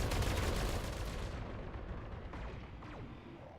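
Mech weapons in the video game BattleTech fire on a target: a loud, dense barrage of booming shots that then fades away into a rumbling tail.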